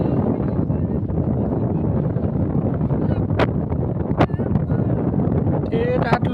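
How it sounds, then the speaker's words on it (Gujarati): Strong wind sweeps across the open Rann desert near Nadabet, buffeting the microphone with a continuous loud rushing roar and occasional sharp gusts, with voices faintly present underneath. "વાયરો છે ફૂલ, તમે જોઈ શકો છો ને"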